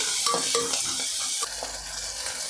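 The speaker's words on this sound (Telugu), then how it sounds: "ఎల్లిపాయలు ఇలా చీలికలుగా చేసుకొని ఇందులో వేసుకున్నాము బాగా కలపండి" Sliced garlic is stirred in a hot pan for a sorrel leaf chutney: a spoon scrapes in several quick strokes over a constant oily sizzle, close and clear, with no talk.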